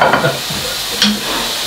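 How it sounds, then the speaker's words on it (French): A skewer with a small mushroom on it sizzles as it cooks, a soft continuous hiss close by with faint scrapes and clicks of tongs over it. "Est-ce que tu vois bien Thomas, la brochette en train de cuire là qui sent bon?"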